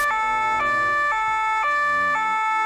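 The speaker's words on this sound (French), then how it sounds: "elle entend des sirènes de police" Loud electronic police siren cycling between tones in a steady repeating pattern, close and sustained with no pauses.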